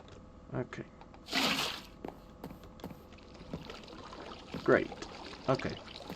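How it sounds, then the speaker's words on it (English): Flowing water in a video game, a soft pouring, trickling wash heard quietly beneath sporadic clicks and light bumps, with brief louder splashy bursts rising now and then. "I'm gonna get rid of that water for now because it's loud in my ears"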